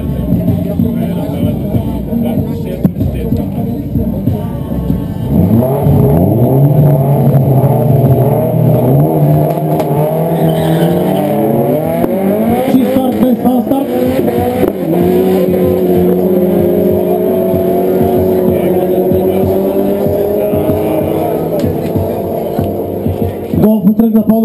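Race cars on a track, a Golf and a Honda, pull away with engines revving up and rising through the gears, loud and close, and a voice talks over the engine noise.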